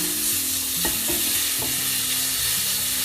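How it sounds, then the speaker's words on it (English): Mushrooms searing in a hot pan for a vegan broth give a loud, steady sizzle, with a few scraping stirs cutting through the continuous frying hiss. "So now we're just searing our mushrooms, and we want some nice color, hot pan"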